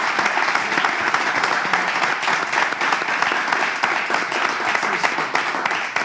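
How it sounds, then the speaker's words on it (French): Sustained audience applause at a church service, dense and even clapping from a crowd that holds at a steady loud level throughout, with no gaps. "Je l'applaudis."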